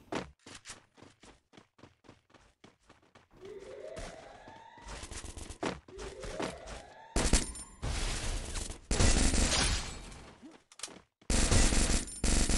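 Rapid gunfire in a ranked Counter-Strike match: quick single shots, then sustained bursts of automatic fire with rising whines, loud and close, ending in heavy barrages.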